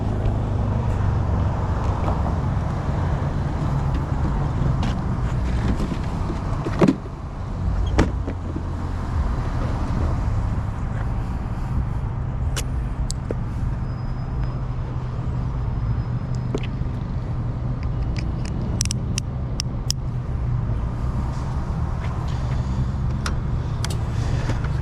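A Toyota Camry driving on the road, with steady close engine and tire rumble from inside the cabin, a few light rattles and clicks scattered throughout.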